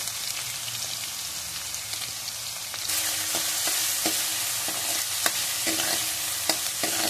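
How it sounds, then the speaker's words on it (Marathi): Chopped onion frying in a pan for a restaurant-style cashew paneer masala, a continuous hissing sizzle that swells louder partway through, dotted with small pops and occasional stirring taps, close by and without voices. "कांदा व्यवस्थित आपल्याला शिजवून घ्यायचा आहे, गुलाबी रंगावर मस्त असा मऊसर असा शिजवून घ्यायचा आहे।"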